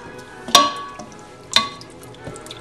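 Pasta being stirred in a pan for Maccheroni alla Rossini, with a soft sizzle throughout and two sharp metallic clinks of utensil on pan about a second apart, close and fairly loud.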